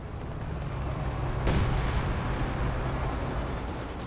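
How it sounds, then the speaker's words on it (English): Artillery fire during a Company of Heroes 2 battle, a steady rumbling barrage with one sharper heavy impact near the middle, continuous distant booms filling the scene. "Artillery now raining on in"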